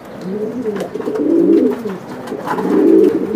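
Racing pigeons cooing in a loft, two close, soft rolling coos rising and falling in a steady rhythm.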